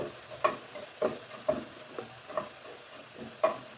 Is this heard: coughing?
no